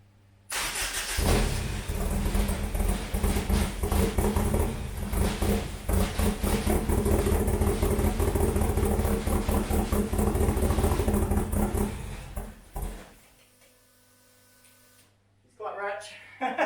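A scratch-built car's engine cranks, fires and runs loud and rich for about twelve seconds, then cuts out, with people talking briefly near the end.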